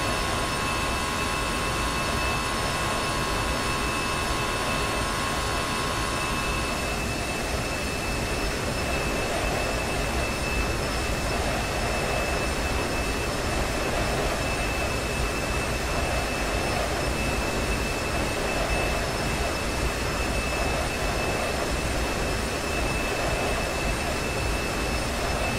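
A jet aircraft engine in the X-Plane flight simulator gives a constant, loud broadband roar with steady high whining tones throughout. Some upper tones fall away after the first several seconds, and no one speaks.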